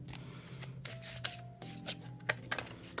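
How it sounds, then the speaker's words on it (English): A deck of Seasons of the Witch Oracle cards being shuffled by hand, a quick series of close riffling and sliding card sounds with soft rubbing between them. "Okay, we're going to shuffle the Seasons of the Witch Oracle."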